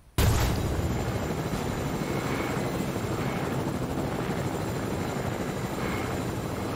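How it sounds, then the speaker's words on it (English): A helicopter flies in Fortnite, its rotor and engine starting abruptly and then holding a loud, steady whirring drone close by. "let's take this chopper back into zone"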